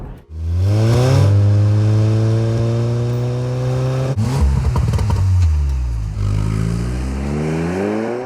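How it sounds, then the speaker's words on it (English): A turbocharged 2-litre four-cylinder petrol engine in a 2019 Porsche Macan revs up with a rising whine, drops briefly around a gear change, then climbs again, loud and close with no talk. "with the 2-litre 4-cylinder turbocharged petrol setup, which is so common in the industry nowadays"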